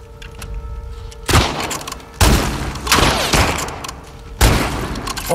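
A .38 revolver fires in the video game The Last of Us Part II, with four loud, separate gunshots spaced unevenly over a few seconds, each sharp crack trailing into a short echoing decay.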